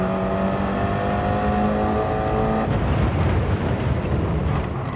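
Onboard race car engine from a racing video game at Laguna Seca, holding a loud steady high-revving whine that drops abruptly partway through as the driver brakes, then a rougher lower engine roar.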